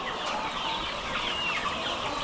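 Laying hens on a chicken farm cluck and chatter in a steady dense chorus, many birds close by with overlapping calls and no pauses.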